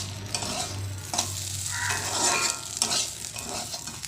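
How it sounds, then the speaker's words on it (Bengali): Beans frying in a wok over a kitchen stove, giving a steady, close sizzle with occasional stirring scrapes and clinks throughout. "এদিকে বিন কড়াইটা ভাজা বসিয়ে দিয়েছি"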